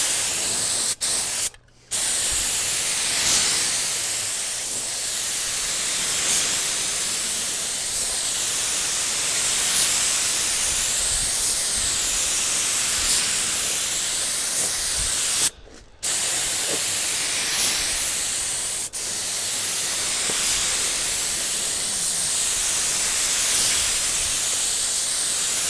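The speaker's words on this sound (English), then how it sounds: "Let's go ahead and finish up our spray." A spray gun spraying lacquer hisses continuously and loudly for a long stretch, pausing briefly twice, with a faint pulsing in the steady airy spray.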